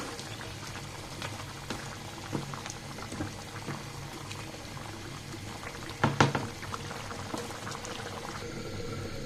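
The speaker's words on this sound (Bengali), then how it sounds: "ঝুলের জন্য আমি একটু পানি দিয়ে দিচ্ছি এক কাপ মতো দিচ্ছি" About a cup of water added to chicken curry bubbling in a pot, a continuous soft boiling burble with occasional clinks and a pouring splash near the middle.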